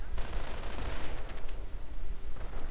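Heavy machine gun fire from a WWII strategy video game rattles in a dense continuous burst, loud and close, with some background game noise.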